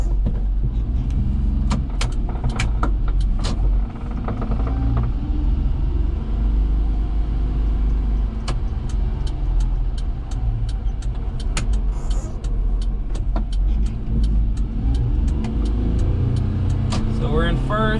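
Daihatsu HiJet kei truck engine pulling away, a close low rumbling drone with cab rattles and clicks throughout, steady and fairly loud from inside the cab.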